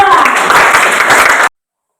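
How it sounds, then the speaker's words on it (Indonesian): A classroom audience applauds a student group after its presentation, a dense burst of clapping lasting about a second and a half and then stopping abruptly. "Berikan aplaus untuk kelompok 2"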